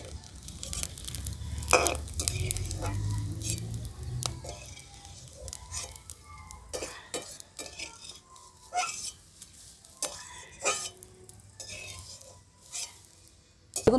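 Sago papad fries in hot oil, crackling and popping as it puffs up, with a low sizzle early on and scattered sharp crackles and utensil clinks throughout, fairly faint and close.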